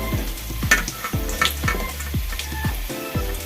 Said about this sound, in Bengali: চলুন তাহলে ভেজে নিই।